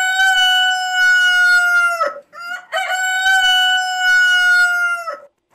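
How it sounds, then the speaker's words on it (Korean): A rooster crows twice, loud and close, each call long and ringing, with a short gap between the two crows and no other sounds. "닭이 울었습니다."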